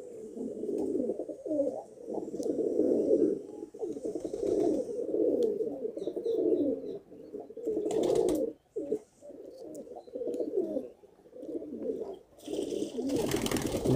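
Pigeons coo continuously in low, throaty warbles, several birds overlapping close by, with brief flutters and splashy rustles near the end.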